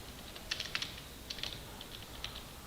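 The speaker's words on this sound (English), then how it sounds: "It is simply text that I kept on pushing buttons on my computer's keyboard" Fingers tap on a computer keyboard in quick, irregular clusters of soft clicks, faint and close, while someone types text into a word processor.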